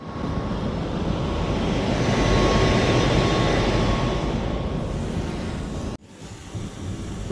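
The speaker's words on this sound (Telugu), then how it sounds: "ఇప్పుడు చూడండి, మనం డ్రోన్ ఫ్లై చేస్తున్నాం" A drone flies over green hills on an island, making a steady, close whirring roar that swells slightly midway, cuts off abruptly near the end and then resumes more quietly, with no talking.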